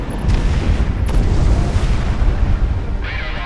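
Explosion in the aerial combat video game Project Wingman, a loud close boom with a rumbling roar that sustains for several seconds, with brief electronic cockpit beeps over it.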